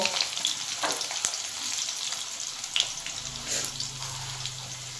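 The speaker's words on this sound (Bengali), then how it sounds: "আলুটা দিয়ে আমি একটু লাল লাল করে ভেজে নেব" Potatoes frying in oil give a steady crackling sizzle, with occasional metallic clinks and scraping as they are stirred, close by.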